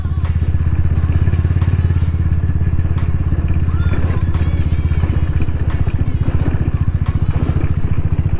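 A tuned Honda Tiger motorcycle engine prepared for racing revs loud and close, a steady rapid pulsing throb throughout with faint clatter, and voices talk over it.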